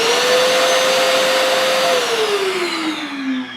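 A shop vacuum running normally, its loud steady motor whine droning close and alone, the pitch easing slightly lower toward the end.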